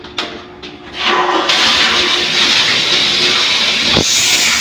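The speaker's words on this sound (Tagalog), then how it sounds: "I-release natin yung tubig para ma-check." Water rushes out of a water pump system after a brief bump and short pause, becoming a steady, loud, broadband hissing gush that continues to the end.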